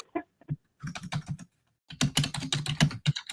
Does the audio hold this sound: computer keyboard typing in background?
yes